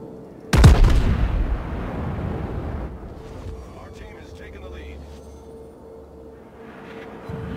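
Warship main guns firing in World of Warships: one heavy, booming salvo with a long rumbling tail that fades under a steady low game hum, with faint talk later on.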